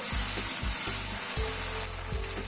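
Cashew and poppy seed paste being sautéed in a pan, a steady sizzle broken by repeated low thuds and scraping strokes as the paste is stirred.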